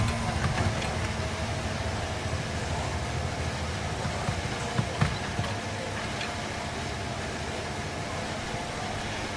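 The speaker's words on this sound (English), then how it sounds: "Okay, engines fired up," F1 cars from the F1 23 video game idling at Bahrain before qualifying, a steady dense engine drone with broadband hum throughout, a voice speaking over it.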